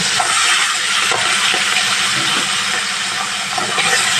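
Prawns fry in hot oil for a potol chingri dish, a loud, steady hissing sizzle that runs throughout without pause, alone and without talk.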